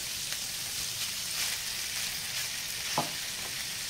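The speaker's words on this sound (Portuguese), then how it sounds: "enquanto nossa carne de porco já está fritando junto ao nosso bacon aqui, já podemos colocar a nossa carne bovina" Pork, bacon and beef fry in a pan for yakisoba, a steady close sizzle with a brief stir or clink near the end, no voices.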